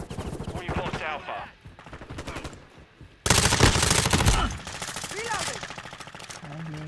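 Rapid submachine gun fire from a Lachmann Sub MP5 in a Modern Warfare II match crackles in quick bursts, peaking in a loud sustained volley midway, with someone talking between the bursts.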